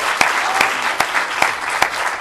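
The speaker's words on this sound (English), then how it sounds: "So if everyone could just give her a round of applause." A conference audience applauds, a dense, continuous clapping close by with a few sharper individual claps standing out over the steady roar.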